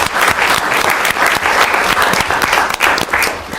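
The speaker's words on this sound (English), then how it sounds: "so if we can give him a big round of applause" Loud, dense applause from a council meeting audience, steady clapping filling the room throughout with no pause.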